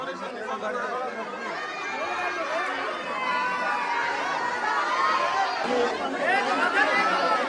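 Dense crowd chatter at a palkhi procession in a village, many overlapping voices, shouts and children calling out, steady and close with no single speaker standing out.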